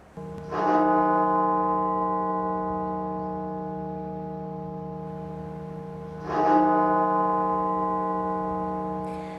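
Funeral bell of the Washington National Cathedral, two deep resonant strikes about six seconds apart, each ringing out in a long humming decay, with nothing else heard.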